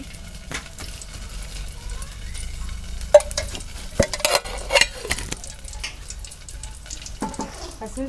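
Oil heating with cooked pasta being stirred in a pan for Chinese-style pasta, giving a steady close sizzle broken by scraping utensil knocks and clatter.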